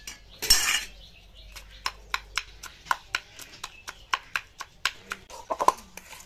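A metal utensil taps and scrapes repeatedly against a dish while mixing mashed potato with lentils, giving a steady series of sharp clinks, close and clear, following one louder clatter at the start.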